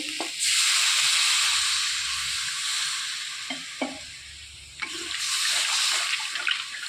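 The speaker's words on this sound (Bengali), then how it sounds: "এবার জল দিয়ে দেবো" Water pours into a simmering fish curry with fried lentil dumplings, potato and taro, making a steady close hiss and splash that swells, dips briefly, then rises again, with a few small clinks and no voices.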